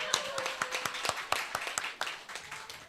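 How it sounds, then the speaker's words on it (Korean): A church congregation at a Sunday worship service claps hands in a steady, rhythmic beat, about two claps per second, sharp and fairly close, with no talk over it. "박수 쳐줍시다."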